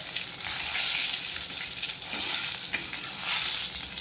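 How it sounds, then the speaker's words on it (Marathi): Spice tempering of turmeric, asafoetida and garlic sizzles steadily in a hot pan for a potato stir-fry, a close, continuous hiss with faint stirring scrapes and no voices. "एक अर्धा चमचा हळद, अर्धा चमचा हिंग आणि छान अशी ही फोडणी आपल्याला परतून घ्यायची."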